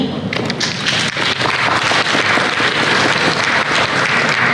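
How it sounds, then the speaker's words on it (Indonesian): Sustained applause fills a hall at a bank's economic outlook event, a dense continuous wash of clapping from a large seated audience, with a voice faintly over it. "Boleh kita berikan tepuk tangan sekali lagi"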